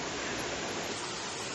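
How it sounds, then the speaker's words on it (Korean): A waterfall in a Vietnamese village during the late dry season gives a dense, steady rushing hiss of falling water, close and unbroken for a brief moment, with no voices. "여기는 히우에 폭포인데 이 동네에서 가장 예쁜 폭포 중 하나래요"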